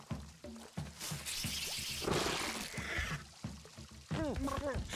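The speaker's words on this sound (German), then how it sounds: "wir müssen ihn gießen, ne?" Water pours and trickles onto a plant in the game Luigi's Mansion, splashy pouring bursts mixed with bright chirpy game effects while people talk over it throughout.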